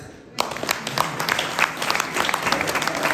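Audience in a hall at a Brussels economic forum breaks into sustained applause, many hands clapping densely and fairly loudly after a brief quiet start, with no speech over it.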